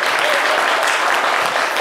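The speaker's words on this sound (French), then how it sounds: "est-ce qu'on peut s'applaudir très fort?" A live audience at a Zouglou music show claps loudly for itself in a dense, continuous burst of applause close by, with no speech over it.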